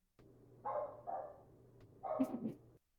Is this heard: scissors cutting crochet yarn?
no